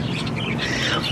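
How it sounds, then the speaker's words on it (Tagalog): Pet birds squawk continuously in a cage fitted with a small light-up perch device, harsh overlapping calls close to the mic with no pauses over a brief stretch. "maingay yung mga ibon lods"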